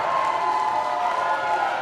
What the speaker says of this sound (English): just listen how the crowd just gets behind Jody